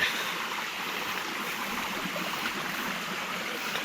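A strongly flowing creek rushes steadily and close by, a dense broadband roar of water running without pause and with no voices over it.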